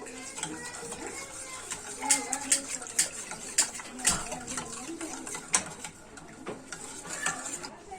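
Cream being stirred in a pot over low heat on the stove, with a spoon scraping and clinking against the metal in irregular taps over a faint background, while a voice talks intermittently.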